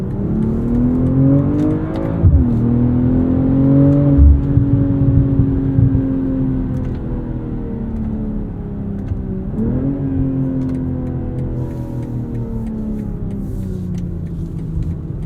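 A 2023 BMW M340i xDrive engine revving in manual mode, climbing steadily toward the red line with a smooth rising whine, briefly dropping at gear changes and pulling again, close and loud inside the cabin.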